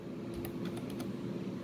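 Keys tapped on a computer keyboard in a short burst of a few quick clicks over a steady fan hum, no talking.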